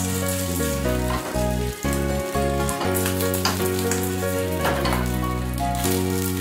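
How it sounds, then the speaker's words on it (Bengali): Leftover-rice idli boras shallow-fry in a little oil, giving a steady bright sizzle. A continuous tonal, music-like drone runs underneath the whole time. "সামান্য তেলে এগুলো একটু শ্যালো ফ্রাই করে নিলাম।"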